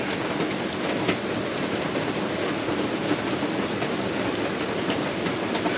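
Steady rain on a rainy evening in Mackay, a dense even hiss of falling drops with no pauses or voices throughout.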